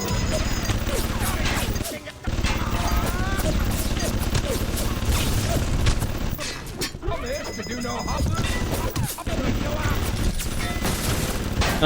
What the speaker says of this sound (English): Oh, what's happening? Shooting.